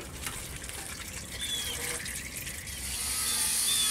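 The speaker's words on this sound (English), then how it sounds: "I could drain the pan." Transmission fluid draining from the pan of a 1982 Chevy C-30, a continuous trickling, splashing pour that grows slightly louder toward the end, with no talk.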